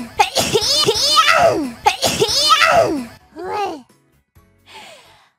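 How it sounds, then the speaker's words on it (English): A young woman sneezes twice in a morning coughing fit. Each sharp burst is followed by long voiced, laugh-like cries, then softer breathy sounds fade out near the microphone. "I've sneezed already over 15 times this morning."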